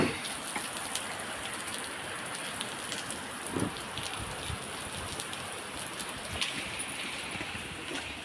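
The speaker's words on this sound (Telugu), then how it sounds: "మీకు వర్షం చూపిస్తాను." Steady rain falls in Kothagudem, a dense, even hiss of drops striking surfaces, close and continuous, with occasional louder patters and no talking.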